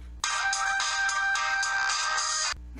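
A telephone rings continuously in an apartment, a loud, steady electronic ringtone trill lasting a couple of seconds with no voices over it.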